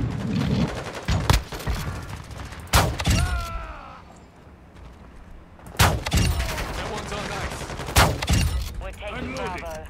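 Video-game shotgun blasts fire in several loud, sharp bursts that are spaced apart, over a rumble of battlefield noise, while people talk excitedly throughout.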